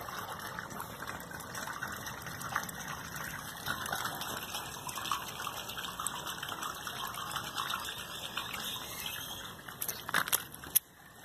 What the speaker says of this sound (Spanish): Las últimas aguas de mi azotea.